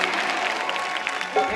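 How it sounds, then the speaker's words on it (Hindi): Brief audience clapping at an outdoor Chhattisgarhi folk stage show, a continuous wash of hands under a faint voice near the end. "तो एक बार ताली के साथ जयकारा हो जाए"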